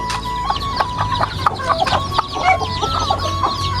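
Layer hens on a rooftop farm cluck steadily in a dense, overlapping chorus of short calls, with no talking.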